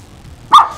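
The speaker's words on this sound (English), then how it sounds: "Sorry for my dogs." A dog gives one sharp, loud bark close by, a single short burst after a quiet stretch of faint room noise, with no talking.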